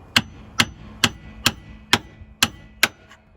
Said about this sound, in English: we're just going to grab the screwdriver, the one that I like to beat on from time to time.